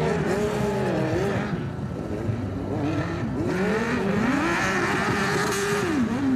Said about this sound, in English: I think he's going to struggle with that big engine through the moguls.